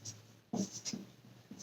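Chalk or a marker writes on a classroom board during a Hindi lesson, a few short, faint scratching strokes in a quiet room.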